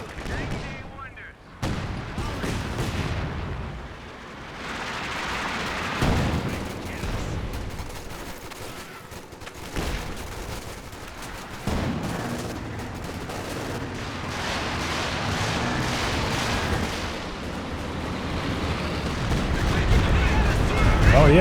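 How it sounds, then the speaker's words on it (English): Battle sounds from the WWII strategy game Company of Heroes 2 in a 2v2 match: dense, continuous gunfire and artillery rumble forming a loud, steady wall of combat noise. "One of our fighting positions is sustaining fire."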